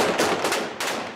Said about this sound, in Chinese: 枪声此起彼落